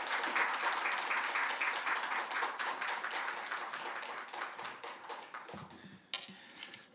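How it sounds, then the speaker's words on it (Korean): A church congregation at a Wednesday service claps steadily to welcome a visiting pastor, dense applause that thins and fades out near the end, with a few stray claps. "박수로 목사님을 환영하겠습니다"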